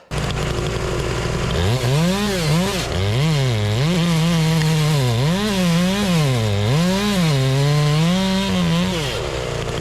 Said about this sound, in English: When you're ripping boards like that, it often jams up the dust chute